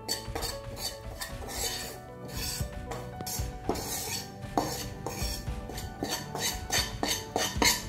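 A metal ladle stirs wheat flour roasting in ghee in a pan. It makes repeated scraping clinks, close and clear, in a steady, slightly uneven rhythm. No voices are heard.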